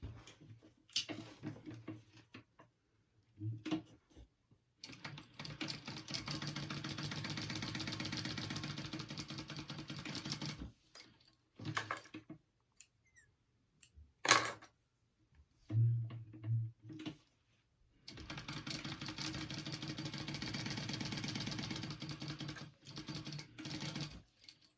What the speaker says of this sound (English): I'm gonna just sew along the edges.